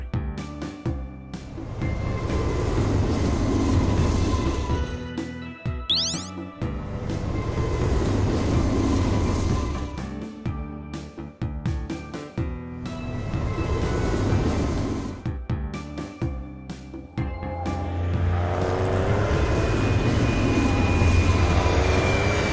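Cartoon train rolling along with rhythmic clickety-clack on the rails, loud rumbling that swells and dips in waves, a short whistle-like squeal partway through, and no talking.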